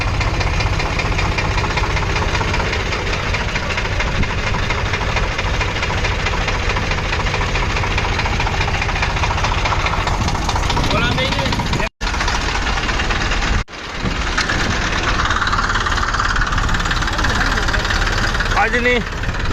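Tractor engines idle with a steady, knocking rumble at a farmers' protest tractor rally in a Gujarat village, the engine noise running loud and continuous while people talk over it and a brief pause cuts in near the end.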